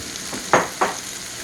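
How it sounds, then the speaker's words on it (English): Mushrooms fry in leftover wagyu steak juices and butter, giving a soft continuous sizzle with two short, louder hissing bursts close together, close by, with no voices. "The mushrooms usually are cooked pretty quick."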